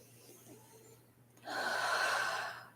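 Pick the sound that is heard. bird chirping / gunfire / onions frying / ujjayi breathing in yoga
ujjayi breathing in yoga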